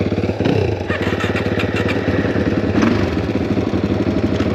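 Suzuki DRZ400E trail motorcycle engine idling and running steadily, a loud, continuous thumping drone close by with slight rises in revs, no talk.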